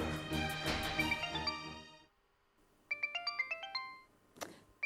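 A mobile phone ringtone plays a repeating electronic melody, loud at first and then fading, and after a short gap it rings again in a clear run of bright tones, with no one talking.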